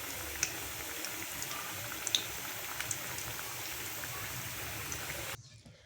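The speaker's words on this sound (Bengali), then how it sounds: "বাইরে প্রচণ্ড হাওয়া দিচ্ছে, বৃষ্টি হচ্ছে, আকাশ ডাকছে" Heavy rain falls outside during a windy thunderstorm, a dense, steady hiss with scattered drip-like ticks throughout, fairly close and continuous before cutting off abruptly near the end.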